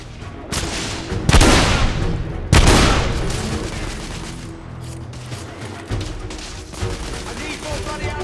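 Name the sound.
heavy gunfire in video game The Order: 1886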